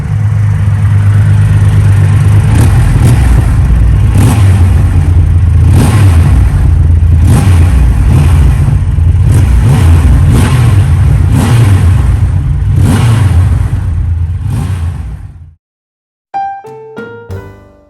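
A Triumph Rocket 3 motorcycle's big engine revs hard and loud in repeated surges for about fifteen seconds, then cuts off abruptly, leaving brief faint clinks.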